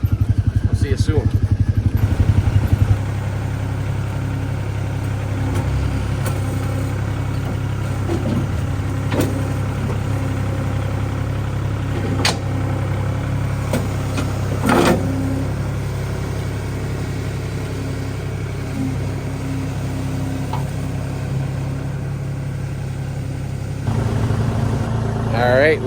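Kubota L3560 tractor engine running steadily, a close, continuous mid-pitched diesel drone that stays even throughout, with a slight change near the start and end.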